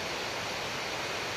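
Baabijhari waterfall near Kerameri, a dense, even roar of falling water, fairly faint and constant throughout with no other sounds.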